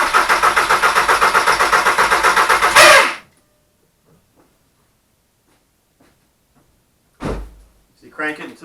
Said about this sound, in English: So you crank it until you saw the fuel squirting out of the lines.